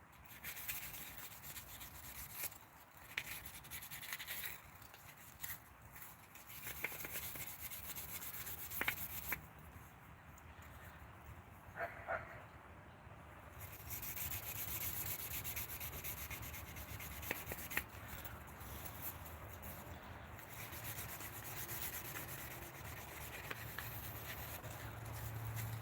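Wood sanded by hand, a steady soft rasping rub with irregular strokes that continues at low level for a long stretch, with faint occasional knocks.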